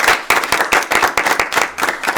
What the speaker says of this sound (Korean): 오늘도 우리의 기도를 들으신 주님께 박수로 영광 돌리십시다